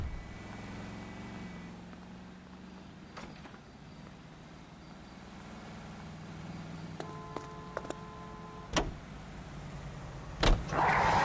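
A car driven in the video game L.A. Noire hums with a low, steady engine drone throughout, joined near the end by a few sharp clicks and a brief higher-pitched burst.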